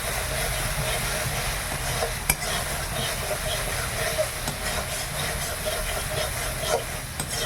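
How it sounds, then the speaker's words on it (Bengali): Spice paste for a hilsa and eggplant curry frying and being stirred in a pan, a steady close sizzle with occasional clinks of a utensil against the metal. "মশলাটা ভালো করে ভাজা হয়ে গেছে"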